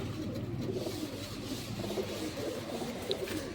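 Pigeons in a rooftop loft coo softly and intermittently, low throaty calls mixed with rustling and handling noises close by while young birds are moved between compartments.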